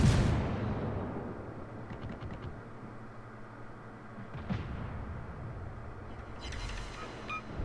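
Italian tier-4 cruiser Giussano firing its guns in World of Warships, a few muffled booms and low rumbling salvos at moderate distance beneath steady engine and ocean ambience, no talk.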